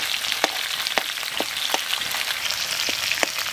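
Whole spices crackle and sizzle in hot oil alongside chicken pieces, a steady close frying hiss dotted with sharp popping bursts throughout.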